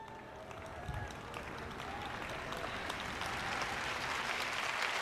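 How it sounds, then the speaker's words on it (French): A congregation applauds at a religious talk, with soft, distant clapping from a crowd that swells gradually and grows denser toward the end, and faint voices underneath. "vous applaudissez au moins"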